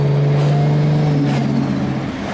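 A Toyota Supra with an automatic gearbox in manual mode kicks down a gear, its engine note holding a loud, steady drone up close from inside the cabin, with no one speaking.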